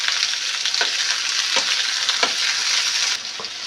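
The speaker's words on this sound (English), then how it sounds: "I'm using a separate frying pan before I add it into a slow cooker because I really want a nice sear on the outside of the meat" Beef searing in a hot frying pan, a loud continuous sizzle with a few soft stirring knocks, close and steady with no talking.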